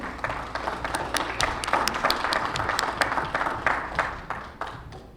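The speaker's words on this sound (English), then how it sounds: "Can we give them a round of applause and welcome them to the room?" An audience at a land management panel applauds to welcome the panelists, a moderate, even round of clapping from a sizable crowd heard from a short distance.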